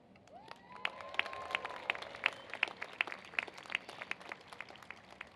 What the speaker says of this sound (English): Let's give everyone a cheer.